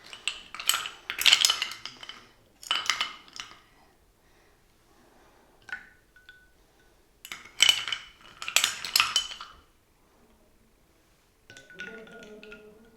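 A spoon clinks and scrapes against a glass jug while stirring lemonade of sugar, lime and salt, in several separate bursts of rattling with quiet pauses between them, close and fairly soft.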